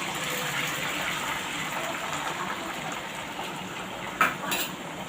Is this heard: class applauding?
no